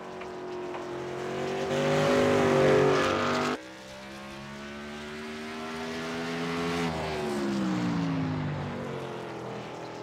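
Racing truck engine roaring around the track at the Texas Roadhouse 200 in a racing video game, a close, steady drone whose pitch climbs, drops sharply at a shift, then rises and falls again.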